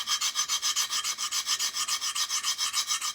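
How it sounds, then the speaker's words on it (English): Microtech Socom Elite knife bevels being sharpened on a coarse stone: a steady, rhythmic back-and-forth rasping of steel on abrasive, about seventeen even strokes, close and clear with no talk. "I've moved over to the coarse stone. I'm just kind of finishing laying those bevels in."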